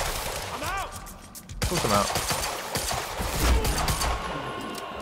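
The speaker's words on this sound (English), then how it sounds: "just firing the pistol like crazy" A pistol fired rapidly in the shooter game Quantum Break, a quick spree of sharp close shots in irregular bursts, with game voices and a brief spoken word over the gunfire.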